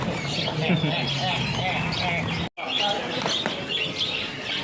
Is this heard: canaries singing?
yes